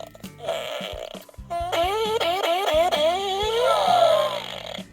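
Electronic fart sound effect from a Power Rangers Dino Fury Boomtower toy key: a brief blip, then a loud, buzzy, wobbling blast lasting about three seconds, heard alone without talk.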